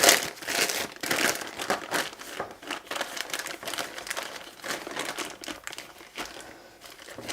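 Crinkling plastic bag holding green-tinted Chantyflex whipped cream being handled and squeezed, a continuous close rustle with irregular crackles throughout.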